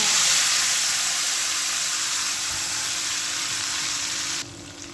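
Spice paste hitting hot oil in a wok gives a loud, continuous sizzling hiss close by, dropping in level abruptly near the end.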